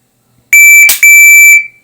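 A shot timer's start beep for a shooting drill, a loud, piercing electronic tone that sounds for about a second with a short break partway through, heard up close in otherwise quiet surroundings.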